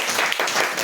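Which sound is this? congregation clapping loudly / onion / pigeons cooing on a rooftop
congregation clapping loudly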